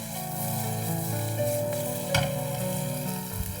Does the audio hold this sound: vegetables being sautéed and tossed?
yes